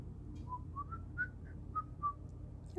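A person whistles a string of short, clear notes, rising and falling in a loose tune, fairly close against quiet outdoor background.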